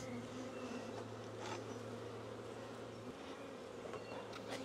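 Honey bees swarm densely around an open hive during a spring inspection, making a steady, full buzzing drone close by that never lets up.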